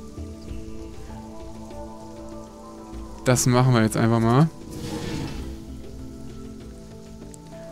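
Steady black rain patters down in the survival game Sheltered, a continuous hiss running through the whole stretch, with someone speaking briefly over it midway.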